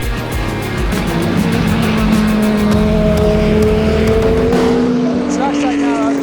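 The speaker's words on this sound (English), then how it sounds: "you can see the cars kind of flying by the hill, then back up the hill behind me" Race cars at Road Atlanta sweep through the S-curves, engines droning loud and continuous with shifting pitch as they pass close by, mixed with steady outdoor ambience.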